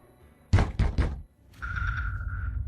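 Three firm knocks on a door in quick succession, close and loud, followed by a sustained tone and low background hum.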